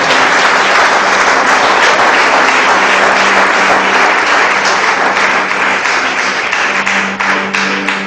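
A church congregation applauds loudly and steadily throughout, a dense, sustained wash of clapping from a full room with no break.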